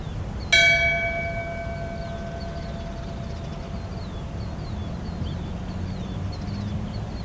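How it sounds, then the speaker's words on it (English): A single bell struck once as a memorial tribute at a community ceremony, ringing out clearly and then fading in a long, slowly decaying hum over steady background noise. "Would you please ring the bell in memory and in tribute for Helen Carl"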